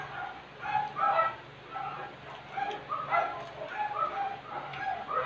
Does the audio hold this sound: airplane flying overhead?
no